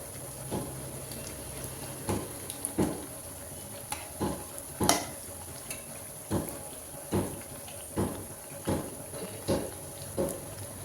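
Bread pieces shallow-frying in a pan until brown for bread halwa: a constant hiss of oil under regular, evenly spaced clinks and scrapes of a utensil against the pan, close and fairly quiet.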